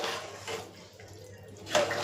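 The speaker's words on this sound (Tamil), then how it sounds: "இப்போ ஒரு சொம்புக்கு தண்ணி ஊற்றிக்கிறேன்" A jug of water is poured into rice in a cooking pot, a close splashing gush with a short surge near the end.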